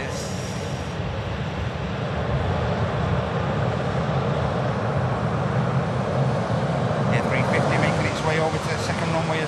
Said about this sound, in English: A380 on finals, guys.